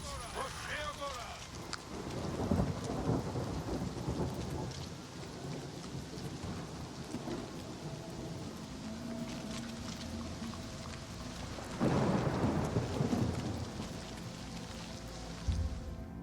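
Rain pours steadily through a thunderstorm in The Elder Scrolls IV Oblivion game while two low rumbles of thunder roll in, one near the start and one later. Faint game voices sit under the storm.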